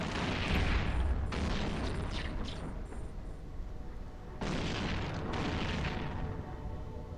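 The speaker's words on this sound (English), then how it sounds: "All missiles fire" Missile volleys launching in EVE Online, heavy rumbling booms that swell and fade in two main waves over a constant low roar of the ship environment.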